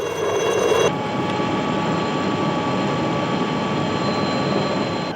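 Helicopter in flight, a steady broadband rotor and engine roar holding at an even level throughout, with a brief brighter burst at the very start.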